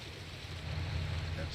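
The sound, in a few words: water plant machinery noise in Farming Simulator 19 video game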